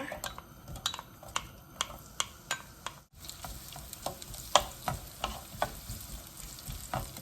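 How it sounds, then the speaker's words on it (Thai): Shallots stir-fry in hot oil in a pan for a Thai noodle dish, with a soft sizzle under rhythmic scraping strokes of a spatula. The strokes are close and crisp, with a brief pause midway. "น้ำมันลงเลยค่ะ ผัดหอมแดงก่อนนะคะ"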